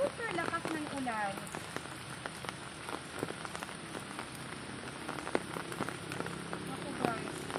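Rain during a storm patters steadily on surfaces close by, dense drops with occasional louder taps throughout, and faint voices in the background.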